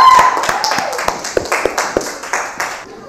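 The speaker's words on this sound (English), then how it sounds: "please give applause for Nadi and Amira." An audience claps at a school science presentation, with a brief scattered burst of hand claps, some louder individual claps standing out, and fading over a few seconds.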